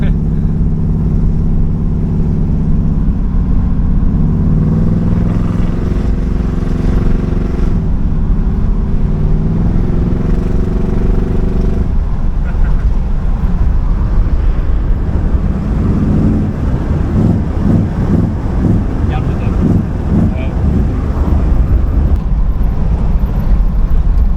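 A Pontiac Firebird Trans Am with a McFly Concept exhaust drives along, its engine a loud, steady drone with wind noise inside the cabin while people talk.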